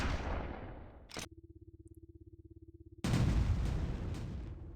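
An explosion in a video game: a loud broadband blast that cuts to a low, buzzing hum for almost two seconds, then a second heavy roaring burst that slowly trails off, close and with no speech.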